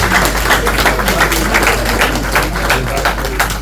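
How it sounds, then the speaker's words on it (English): A crowd at a 65th birthday celebration gives a loud, dense round of applause for a speaker, with many hands clapping continuously close by and a low hum underneath. "Please, another round of applause for him."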